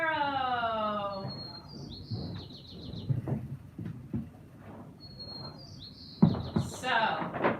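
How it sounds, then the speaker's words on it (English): A white-crowned sparrow sings a short whistled, buzzy phrase twice, clear and fairly near, while a person talks over much of it. "There we go, there's our white-crowned sparrow."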